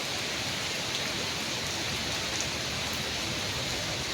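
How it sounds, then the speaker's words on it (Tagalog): Heavy rain pours steadily onto a flooding park, a dense, constant hiss of falling water with no breaks and no voices. "Kasi yung ulan, 2 days na ganito yung ulan."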